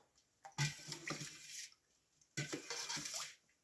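Warm water poured into a bowl for homemade honey bread dough, in two short splashing pours with a quiet pause between, fairly faint and with no speech.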